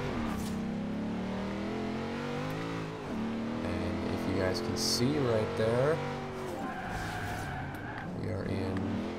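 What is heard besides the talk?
Nissan Skyline GT-R engine revving in video game Forza Horizon 2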